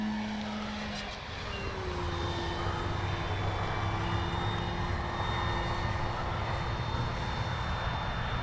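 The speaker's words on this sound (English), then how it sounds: "This is just takeoff and landing practice with the Avios Grand Tundra 2." Electric RC airplane, an Avios Grand Tundra 2, flying takeoff and landing practice, a steady continuous motor drone that rises slightly in pitch after a brief dip, heard alone with no talk.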